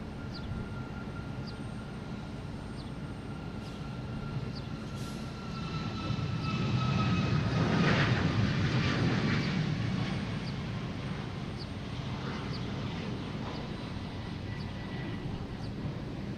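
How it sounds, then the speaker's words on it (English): An Air Canada airliner taking off from Boston Logan Airport, a broad, steady engine roar that swells to a peak midway and then slowly fades, heard from a distance with no talking. "next taking off, we have Air Canada heading to Toronto"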